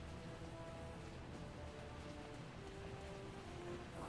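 Steady heavy rain in Final Fantasy XII, a dense continuous wash of patter with a few faint tonal background sounds, no talk over it.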